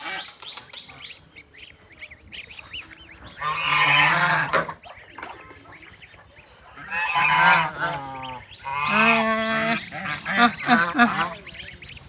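Domestic geese stand together honking loudly for their goslings, harsh nasal calls coming in three strong bursts with quieter gaps and faint murmuring between.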